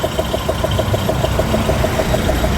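Truck engine on a highway making an abnormal noise, a steady loud drone with a faint rhythmic ticking pulse running through it, heard from inside the cab with no talk.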